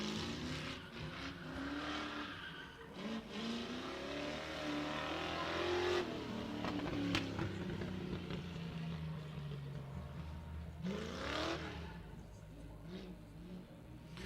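Ford Fox body with a 302 V8 revving at a drift pit test and tune day, repeated rising and falling engine pulls with tire noise, varying in distance over a long stretch.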